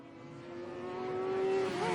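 Stock car engines in a tournament final race whine steadily and climb in pitch as the cars accelerate, a continuous close roar with no voices.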